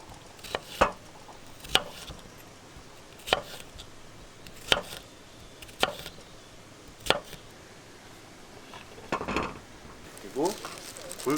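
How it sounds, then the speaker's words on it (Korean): Knife julienne-cutting fresh cucumber for spicy whelk noodles at a campsite, a series of sharp, separate chopping knocks on a board at irregular intervals, close and clear over quiet background. "오이를 채 썰어 주시면 되고요"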